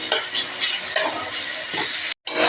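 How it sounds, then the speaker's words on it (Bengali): Chopped tomatoes with salt are stirred in a frying pan, the spatula scraping in repeated strokes over a steady sizzle, close and fairly loud, with one brief dropout near the end. "নুন দেওয়ার পর কিছুক্ষণ নেড়ে নিলাম।"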